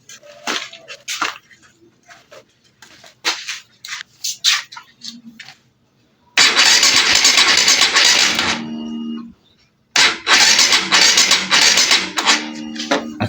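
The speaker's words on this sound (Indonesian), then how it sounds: "Sekarang kita tinggal coba di starter." A Honda CBR150R motorcycle with a weak battery and a stalling fault, its electric starter cranking in two long strained bursts after scattered clicks and handling noises, loud and close.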